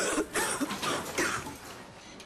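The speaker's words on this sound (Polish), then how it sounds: "Mokry kaszel najlepiej skrócić." A few short, harsh wet coughs in quick succession, close and moderately loud, with a rough, chesty texture.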